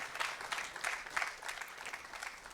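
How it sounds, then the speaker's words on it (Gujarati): An audience at a religious katha gathering applauds to welcome guests, with steady, moderately quiet clapping that swells in small waves throughout. "એમને બધાને આપણે તાળીઓથી એકવાર વધાવવાના છે."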